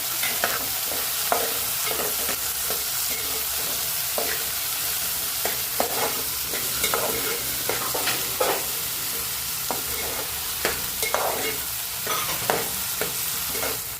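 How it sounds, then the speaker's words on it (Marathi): Finely chopped tomato stirred into frying onions in a pan, a steady soft sizzle with repeated sharp scraping clicks of a spoon, close and alone with no talk. "आपण टाकणार आहोत त्याच्यामध्ये टोमॅटो एक टमॅटो बारीक चिरून घेतलेला आहे आपण हे टाकून आपण मिक्स करून घेऊया"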